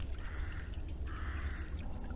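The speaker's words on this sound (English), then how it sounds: "There's a little outlet here of water" Small outlet of water trickling near a medieval moat in a quiet outdoor spot, a faint, soft continuous gurgle with gentle low rumble underneath.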